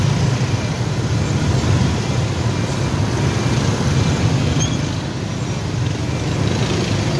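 Steady, dense roar of congested highway traffic on a Vietnamese national route near Binh Dien bridge, crowded with motorbikes and cars after a holiday, a constant loud rumble with no speech.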